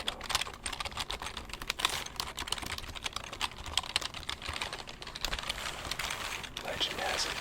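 Rapid, uneven bursts of typing on a computer keyboard, played loosely like a guitar solo, with dense clicky keystrokes running continuously at close range.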